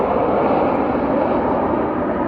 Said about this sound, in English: as soon as the plane goes by